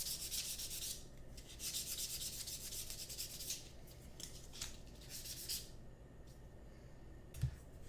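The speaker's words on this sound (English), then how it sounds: "Then taking a sanding sponge." Repeated rubbing strokes of a sanding sponge on a 1/16 scale plastic Tiger I tank model turret, a soft rhythmic scratchy swishing in several bursts, close and quiet.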